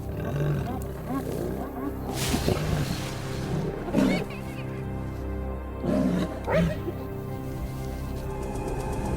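A lioness snarling while hyenas circle her in the wild: repeated low growling roars in bursts around 2, 4 and 6 s, fairly close, over an outdoor background with a faint crackle.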